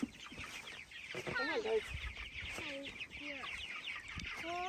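Chickens clucking at a chicken tractor on a farm, a steady stream of close, overlapping clucks and squawks, with people talking over them and children's voices nearby.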